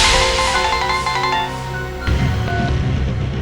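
A phone ringtone plays loudly for a few seconds as a melodic electronic tune with steady tones, then the pattern shifts into a new phrase.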